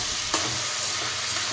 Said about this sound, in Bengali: এখন হচ্ছে কুমড়ো বেগুনের মাথা ভাজা।